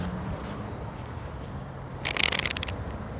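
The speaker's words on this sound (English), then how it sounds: "that was a bad shuffle" Tarot cards are shuffled in a brief, crisp riffling burst near the end, close and fairly bright against a low, steady background hum.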